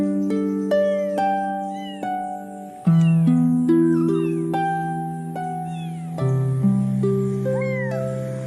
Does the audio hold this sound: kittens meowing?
yes